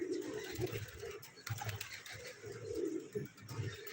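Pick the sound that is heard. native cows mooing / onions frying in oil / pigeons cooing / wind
pigeons cooing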